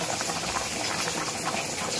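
Rice with masala boils in a covered pot, giving a steady, dense bubbling and hissing that stays even throughout.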